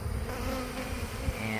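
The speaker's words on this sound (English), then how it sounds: "all the bees are going to come out of the tree" Honeybees swarm around a hive set by a large oak tree, a dense steady buzzing of many insects close by, brief and without speech.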